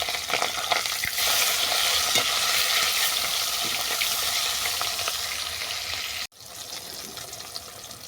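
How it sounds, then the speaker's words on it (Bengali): Rohu fish pieces frying in hot oil in a pan crackle with a loud, continuous sizzle, briefly cut by a short pause near the end before the frying noise resumes, with no talking. "মাছটাকে আমি উল্টো পাল্টে বাদামি করে ভেজে নেব"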